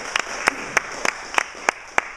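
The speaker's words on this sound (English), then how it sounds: "Would you give them a big round of applause?" Church worship service with a steady, evenly spaced run of single claps, about eight sharp strikes over a soft background, moderately near and fairly quiet rather than a full crowd ovation.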